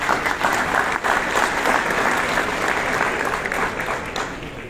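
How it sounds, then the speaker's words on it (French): Audience at a digital summit in Tunisia claps as an honoree joins the stage, a dense, steady round of applause that eases off slightly toward the end. "je vous applaudis"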